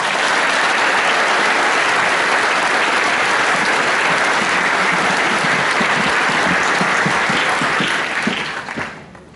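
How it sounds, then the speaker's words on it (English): A school audience at a Year 13 graduation ceremony applauds the graduates in a loud, sustained roar of many hands that holds steady, then fades quickly at the very end. "Big round of applause for them, please."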